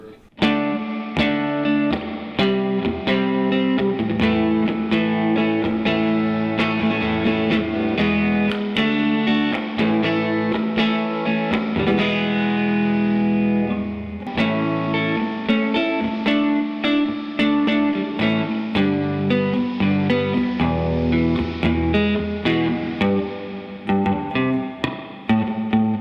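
Electric guitar played through a 1964 Gibson Falcon amp with reverb set at half, a continuous strummed and picked passage that stays loud and upfront with a washy, effected tail, no voices over it.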